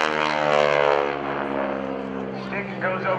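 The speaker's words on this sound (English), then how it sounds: "That shiny airplane rolls on its back." A propeller airplane flies aerobatics at the 2012 NAS Oceana airshow, a loud droning engine whose pitch shifts as it rolls, heard over a commentator talking on the loudspeaker.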